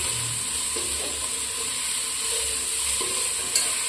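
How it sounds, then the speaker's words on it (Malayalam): Ginger, garlic and green chilies sautéing in oil for Kerala-style beef pepper roast, a steady close sizzle with soft stirring scrapes and a brief clink near the end. "ഇഞ്ചി വെളുത്തുള്ളിയുടെയൊക്കെ പച്ചമണം മാറുന്നത് വരെ വഴറ്റി കൊടുക്കണേ"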